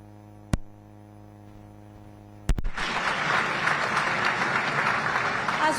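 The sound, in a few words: applause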